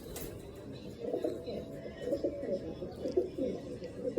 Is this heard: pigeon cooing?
yes